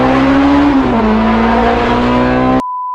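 Honda S2000 fitted with a built K24 engine drives hard, its loud, close exhaust drone holding a steady pitch with a dip and recovery near one second before cutting off abruptly.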